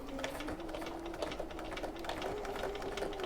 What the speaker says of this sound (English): all we're going to do is just make a couple of stitches forwards and backwards to lock our threads in